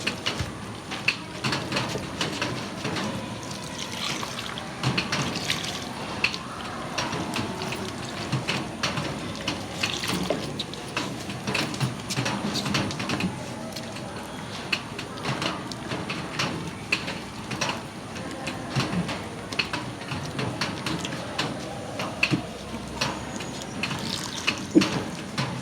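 Water splashes and trickles as it is poured and stirred into rice for a bijamrita farm preparation, a steady, faint wet sloshing with small clinks throughout and no voices.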